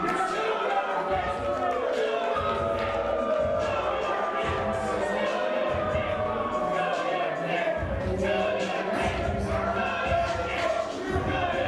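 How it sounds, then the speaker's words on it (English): A large wrestling crowd at the Colonial in Sacramento jeers and boos loudly and continuously, with rhythmic thuds under the noise and a commentator speaking over it. "this massive Colonial crowd voices their displeasure for Christian Black"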